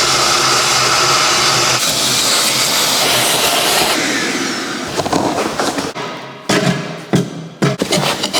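A vacuum cleaner roars loudly and steadily while sucking mud out of a skid loader, then cuts in and out with intermittent bursts and clunks toward the end.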